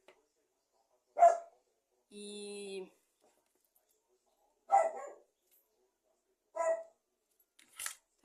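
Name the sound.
dog barking repeatedly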